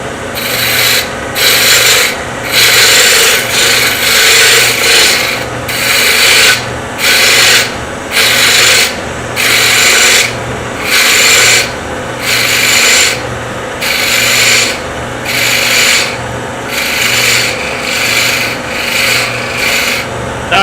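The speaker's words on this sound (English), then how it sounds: "So I think I'll go back to my roughing gouge and take some more off." A roughing gouge cuts a wooden bottle stopper spinning on a woodturning lathe, loud raspy scraping in regular bursts about once a second, each pass separated by brief pauses, close and alone.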